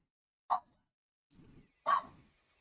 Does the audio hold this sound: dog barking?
yes